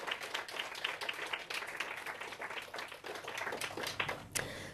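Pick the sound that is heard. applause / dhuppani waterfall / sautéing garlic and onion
applause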